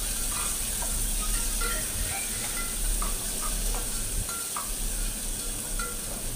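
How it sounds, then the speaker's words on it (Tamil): Sliced onion sautéing in a pan for a lazy egg curry, a steady low sizzle and hiss broken by occasional soft stirring scrapes and taps, close and continuous without talk. "இது ஒரு வெங்காயம் நீல வாக்கில் கட் பண்ணி இதையும் சேர்த்துக்கோங்க. சேர்த்துட்டு நல்லா வதக்கிக்கோங்க."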